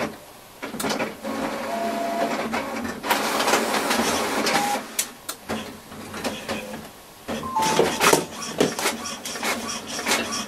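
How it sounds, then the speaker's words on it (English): An office printer runs through a print job, printing out service schematic pages, with bursty mechanical whirring, clicks and paper-feed strokes in irregular surges, fairly close, with no talk over it. "Excuse the printer going in the background"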